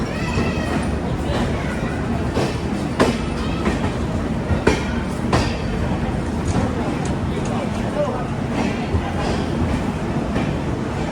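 The Udhampur-Prayagraj Express rolls steadily toward Pathankot Cantt station, a loud continuous rumble with rhythmic wheel clicks and occasional clanks from inside the carriage.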